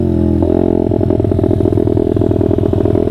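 A Honda CRF dirt bike engine fires up after a clutch-popped bump start, settling into a loud, close, steady chugging idle with rhythmic pulses and some mechanical clatter throughout.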